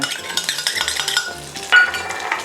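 Garlic and shallots are stirred in hot oil in a pan, with steady sizzling, a spatula scraping and clinking against the metal in an irregular rhythm, close and fairly loud.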